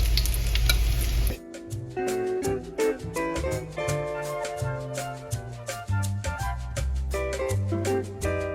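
Tuna cutlets frying in oil make a loud, close sizzle for about a second, then it cuts off and plucked melodic music takes over.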